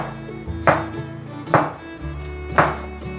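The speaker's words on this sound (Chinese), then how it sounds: "把鲜香菇切片" A knife slices fresh shiitake mushrooms on a cutting board, three evenly spaced firm thunks against a soft background hum, close and clear with no talk.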